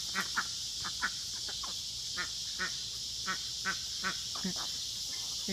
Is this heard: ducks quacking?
yes